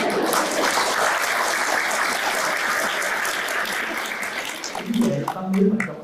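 Crowd claps during a Buddhist dharma talk, a thick sustained round of applause that thins out toward the end as a speaking voice returns over the last moments.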